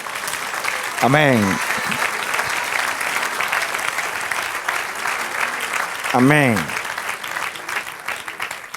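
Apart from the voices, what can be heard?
applause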